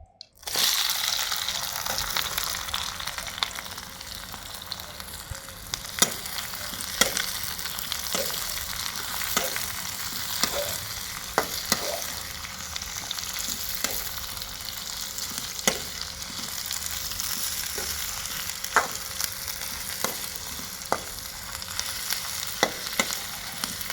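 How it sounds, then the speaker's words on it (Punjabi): Onions and green chillies sizzle steadily in hot oil for a bitter gourd curry, a continuous close crackle with occasional sharper pops and stirring scrapes, with no talking. "ਹੁਣ ਆਪਾਂ ਇਸੇ ਤੇਲ 'ਚ ਗੰਢੇ ਪਾ ਦੇਵਾਂਗੇ ਗੰਢੇ ਹਰੀਆਂ ਮਿਰਚਾਂ"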